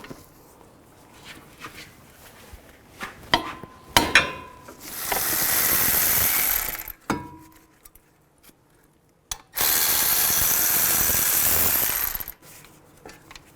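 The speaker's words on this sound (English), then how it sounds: "Take these two bolts out, use a 19mm socket." Scattered metallic clicks and clanks of a 19mm socket wrench removing front brake bolts on a Nissan Maxima, broken up by two long, loud bursts of a whirring power tool.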